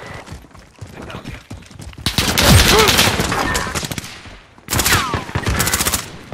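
Video game gunfire in a Search and Destroy bomb match: bursts of rapid automatic fire and single shots crackle in two loud clusters, with quieter game noise and faint voices between them.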